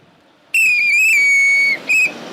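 A traffic police trainee blows a loud, shrill whistle in one long, sustained blast, followed after a brief pause by a short second blast.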